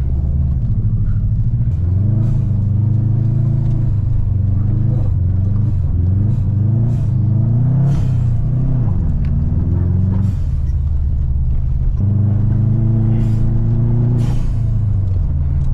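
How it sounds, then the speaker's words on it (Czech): Inside a Subaru car driven hard, the engine roars loudly through repeated acceleration runs, pitch climbing then dropping at each gear change, with the turbo building boost close and continuous throughout. "To auto prostě jak začne fungovat, jak se nafoukne to turbo, to je neskutečné."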